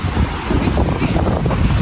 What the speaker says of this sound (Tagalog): Malakas naman ang alon, eh.